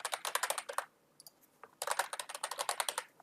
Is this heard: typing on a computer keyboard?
yes